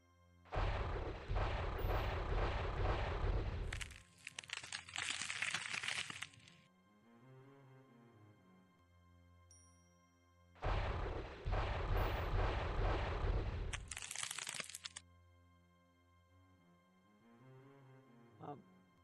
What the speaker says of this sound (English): Let's do the force bolt right here in the crackety crack.